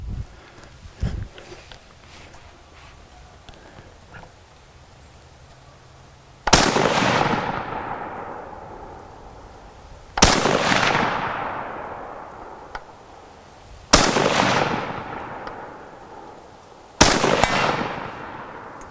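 A Madsen light machine gun, an early design never meant for shoulder use, is fired from the shoulder at a target about 60 yards out, four loud single reports spaced a few seconds apart, each ringing off into a long outdoor echo.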